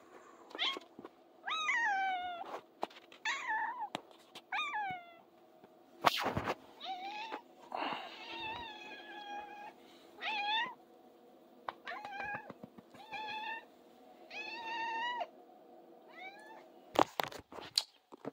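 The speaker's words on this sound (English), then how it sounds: "I'm gonna show my cat." A pet cat meowing indoors, a long run of repeated clear meows spaced a second or two apart, fairly close, with a few sharp knocks and clatters between calls.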